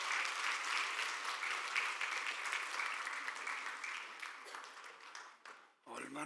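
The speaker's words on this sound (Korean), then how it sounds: "우리 솔로한 친구한테 다시 한번 박수 해줄래요?" A church congregation applauds during a service, steady, even clapping from many hands, soft and somewhat distant, gradually tapering off before a voice comes in at the very end.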